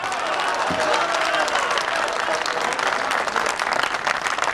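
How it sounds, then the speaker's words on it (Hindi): Dense, sustained applause from an audience at a Hindi poetry recitation, a continuous crackle of many hands clapping close and loud, steady throughout without speech. "मुझे अच्छा लगा इस बीच में आपकी तालियां"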